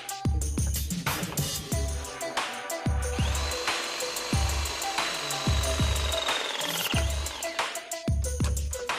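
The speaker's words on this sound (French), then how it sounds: "Tous les raccordements de la conduite en cuivre sont réalisés étanches aux fuites avec une presse." Press tool at work on copper gas line fittings, with repeated low mechanical thumps in an uneven rhythm, a sustained motor whine in the middle, and scattered clanks, all loud and close.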